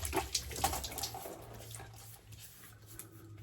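Water from a tap runs and splashes at a sink as a face is wetted for shaving, a few brief splashy bursts near the start settling into a soft, steady trickle close by.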